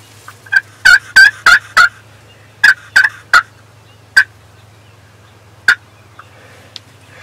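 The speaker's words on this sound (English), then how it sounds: "But he gobbled." Wild turkey gobbling during a spring hunt, a series of loud, sharp gobbles in quick bursts followed by a few spaced single gobbles, heard fairly close over a steady low hum.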